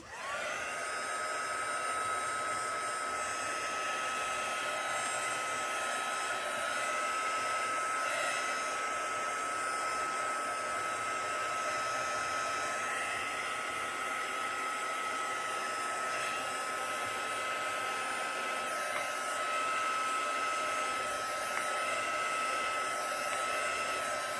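Hair dryer blowing steadily on damp inked mixed-media craft backgrounds, a continuous loud whirring drone held close for the whole stretch with only slight wavering and no talk.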